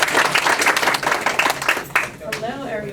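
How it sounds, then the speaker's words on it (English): Audience applause for a speaker at a marketing talk: brisk, close clapping that swells and then thins out, with a voice starting to speak over it near the end. "She deserves a round of applause."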